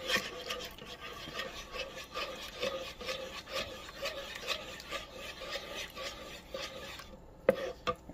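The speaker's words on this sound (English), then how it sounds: "I don't use a mixer, I just use a wooden spoon" A wooden spoon rasps and scrapes steadily around bread dough in a bowl, a soft rhythmic rubbing at close range that carries on alone without talk, with a sharper knock near the end.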